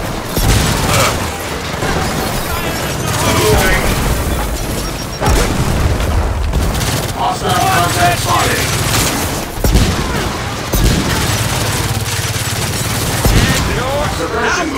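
Gunfire in the Gears of War 4 video game, with loud rapid bursts and booming impacts running through the whole stretch, overlaid with game voices and effects.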